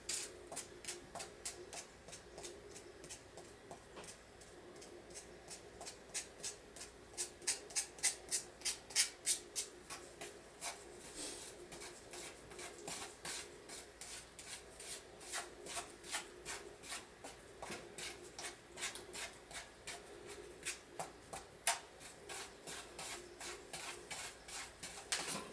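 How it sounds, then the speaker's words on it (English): A pot full of refractory mix for a Devil Forge is stirred by hand, making a faint, continuous gritty scraping and rasping with steady rhythmic strokes, close up and with no talking. "nobody wants to watch an old man stir a pot full of refractory"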